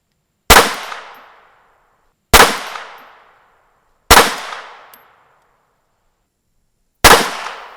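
German Mauser 1914 pistol fires four sharp, loud single shots, each a crisp crack with a short decaying tail, spaced unevenly about two to three seconds apart with silence between, no talking.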